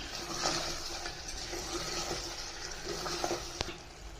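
Mutton curry is stirred in a pot with soft scraping and wet sloshing strokes over a low simmering sizzle, fairly quiet and close, with one sharper knock near the end.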